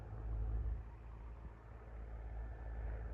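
A heavy tractor engine idles with a low, steady rumble, swelling slightly at the start and end, with no talking.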